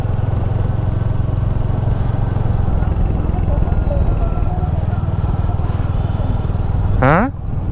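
A motorcycle rides along the road on a trip from Kolkata to Dublagadi, its engine droning loud and constant with wind rumble and one brief rising whine near the end.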